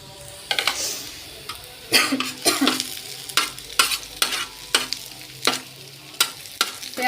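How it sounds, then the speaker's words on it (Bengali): Fresh green chillies sizzle in a hot pan, broken up by a steady series of sharp scraping stirs, close and fairly loud, with no talking. "দেখেন কতগুলো মরিচ ভাজি করছি টাটকা মরিচ"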